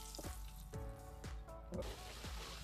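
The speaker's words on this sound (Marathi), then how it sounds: "ज्यात आपण अंडी तळून घेतले होते त्या तेलामध्ये कांदा, टोमॅटो, अद्रक आणि लसूण परतून घ्यायचा लाल होईपर्यंत" Onion, tomato, ginger and garlic sauté in oil left over from frying eggs, cooked on a wood-fired chulha. There is a faint, steady sizzle with soft rhythmic scrapes of stirring about every half second, and no speech.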